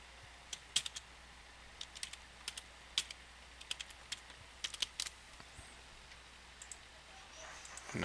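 A computer keyboard is typed on in short, irregular bursts of light clicking keystrokes, fairly close and quiet against a faint background hiss.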